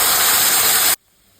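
Boiled boti (tripe) drops into a hot curry pan of ginger-garlic paste and sets off a loud, steady sizzling hiss that cuts off abruptly after about a second.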